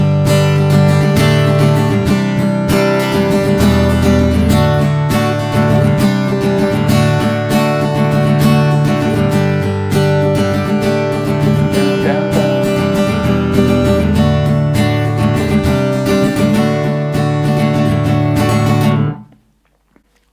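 Acoustic guitar strums a busy 16th-note pattern for a song, loud and continuous with steady rhythmic chord changes, stopping abruptly near the end.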